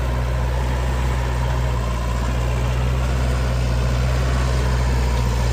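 A 2002 Vermeer V5750 with its engine running steadily as it is driven slowly, giving a constant low diesel drone and rumble with no voices.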